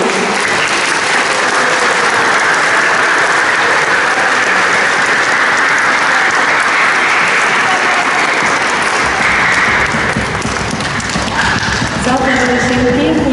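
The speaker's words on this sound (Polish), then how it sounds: "Jeszcze raz poproszę o ogromne brawa." Loud, sustained applause from a large crowd after a school play, filling the whole stretch, with a voice speaking in Polish over it near the end.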